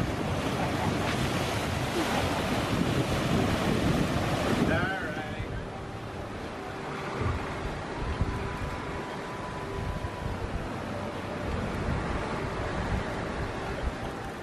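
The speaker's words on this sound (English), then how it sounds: "We've got around 15 knots of wind" Strong wind buffets the microphone over rushing waves as a sailboat heads out from Tahiti in about 15 knots of breeze; the roar is heavy at first, then eases into steadier sloshing water and hull noise.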